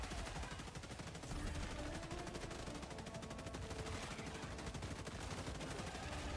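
Gunfire from the video game Helldivers 2: a dense, unbroken stream of rapid automatic shots and machine-gun bursts, loud and close, continuing without pause throughout.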